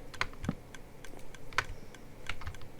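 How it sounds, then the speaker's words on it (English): Shift-clicking on a computer keyboard and mouse while building chests for an auto-sorter: a few light, close clicks and key taps at irregular intervals, quiet and with no voice. "I'm just shift clicking so they don't make double chests"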